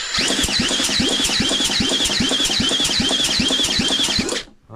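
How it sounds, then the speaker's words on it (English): A motorbike engine being turned over by hand, with a thumb over the spark plug hole: a steady rhythmic chugging of about twelve even compression strokes, close and loud, with a faint squeak on each stroke, stopping abruptly at the end. "Something that sounds like an engine turning over."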